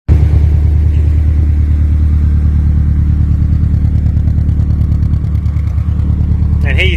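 A Subaru STi on a Haltech ECU idles loud and close, a steady, lumpy rumble with a rhythmic pulse that runs without a break, and a brief faint chirp near the end.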